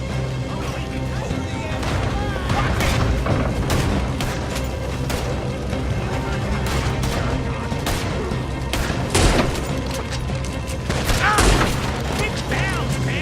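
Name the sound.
gunfire in a shootout, from video game Red Dead Redemption 2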